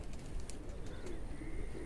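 A pigeon coos on a rooftop on a still, hot day, a soft low murmur over steady background noise with a few faint chirps.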